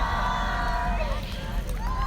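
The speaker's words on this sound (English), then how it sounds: "As you guys can hear, the crowd that we're near is chanting for sure" A crowd chants and shouts at a Confederate monument removal in New Orleans, a dense, steady wash of many voices close by with overlapping cries rising and falling.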